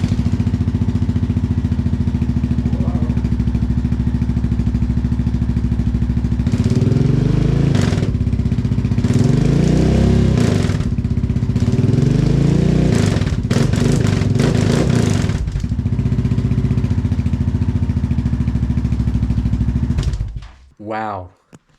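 Honda Rubicon ATV engine idling and blipping through a Big Gun exhaust, a loud deep rumble with several revs rising and falling before the engine cuts off near the end.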